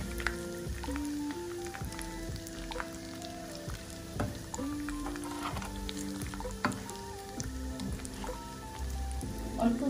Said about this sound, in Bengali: প্রথমে একটু সাবধানে দিয়ে এটা ভাজবে।